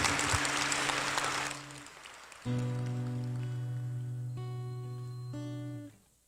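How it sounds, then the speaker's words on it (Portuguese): Audience applause at a church sermon bursts loud at first, then fades as sustained organ-like tones take over and hold to the end. "Você poderia aplaudir isso daí, porque isso daí é muito bonito"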